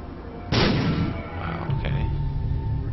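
A bomb blast in The Binding of Isaac, one sudden loud boom with a rumbling tail and a smaller follow-up thump, heard close with faint background talk.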